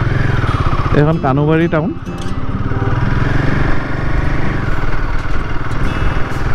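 A motorcycle carrying two riders on a road toward Longding in Arunachal Pradesh, a steady mid-pitched engine drone heard close and loud throughout while someone talks over it.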